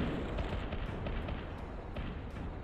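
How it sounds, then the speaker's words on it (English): Units blow up in the real-time strategy game Zero-K, a dense run of booming explosions and crackling blasts overlapping one another without pause. "Of course, death explosions are a thing."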